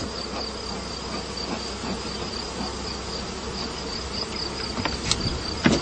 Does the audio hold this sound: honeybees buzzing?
yes